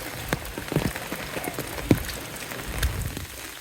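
Rain falling steadily outdoors near a pond and a vegetable garden, a soft continuous patter with scattered louder drops, heard alone without talk.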